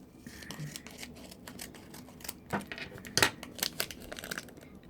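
Paper envelope from a Harry Potter blind box being torn open and handled, a stretch of close crinkling, rustling and tearing with a few sharper rips toward the end, no talking.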